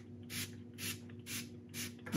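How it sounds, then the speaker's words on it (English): Four quick hissing sprays of cleaning solution from a pump bottle onto a vinyl record, evenly spaced, close and fairly soft, with no voices. "So we're gonna spray the record a couple of times."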